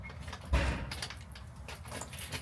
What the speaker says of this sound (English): Now I have to try 5 different keys in 5 different pissing locks.